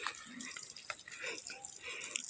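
Water runs from an outdoor shower in a rural hillside setting, a faint, steady splashing hiss with small irregular drips and spatters throughout.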